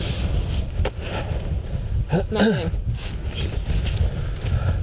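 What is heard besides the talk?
strong wind on mountain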